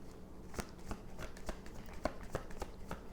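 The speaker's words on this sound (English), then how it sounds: "I'm going to be pulling from some tea leaf cards." Tea leaf cards shuffled and handled for an Aries reading, a run of soft, close papery flicks and taps at an uneven, quickening pace over a quiet background, with no voices.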